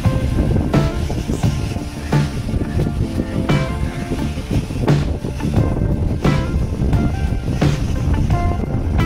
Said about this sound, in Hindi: समुद्र की लहरें देखो बड़ी बड़ी आ रही है।